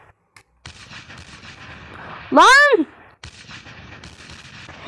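Tank cannon fire and shell explosions in the video game Tank Hero rumble through a busy background of game noise, with one loud, sharp burst standing out in the middle before the action settles back down.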